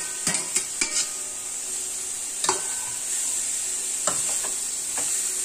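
Turnips for bhurji being stirred and fried in a pan, with a steady sizzle broken by several sharp scrapes and clinks of the spoon against the pan, close and fairly quiet.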